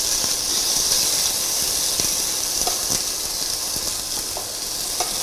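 Onion sizzling steadily in a pan for mutton curry and samp, with a spoon stirring through it and giving a few soft scrapes and clicks over the constant frying hiss.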